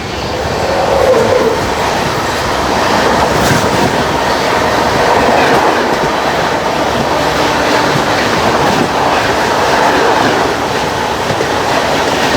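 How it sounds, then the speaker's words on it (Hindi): Ganga Kaveri Express, an MGR Chennai Central to Chhapra Junction train, rolls past at close range, a loud continuous roar of wheels and carriages with steady rail clatter and no voices throughout. "सामने से आ रही है Ganga Kevadia express MGR Chennai central Chhapra junction जाने वाली"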